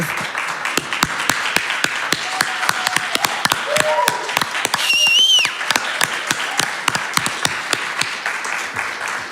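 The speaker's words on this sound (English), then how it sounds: "I am so happy to hear that applause" A church congregation applauding at a Sunday service, steady close clapping with sharp individual claps over a dense wash of hands, continuing for several seconds.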